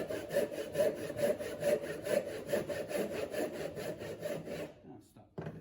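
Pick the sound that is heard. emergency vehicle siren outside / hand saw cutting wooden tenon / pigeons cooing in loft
hand saw cutting wooden tenon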